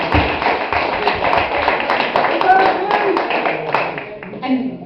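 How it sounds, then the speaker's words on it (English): An election night crowd claps together, a dense, steady patter of many hands at close range that thins and fades near the end, with some speech mixed in. "can we just give each other a really big clap"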